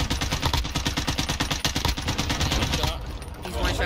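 Rapid automatic fire from a C58 assault rifle in a video game: dense, close, loud bursts of shots in quick succession, continuing almost without break and easing briefly before resuming.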